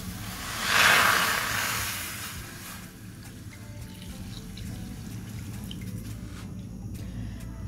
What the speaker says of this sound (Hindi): अब मैं इसमें पानी शामिल कर रही हूँ।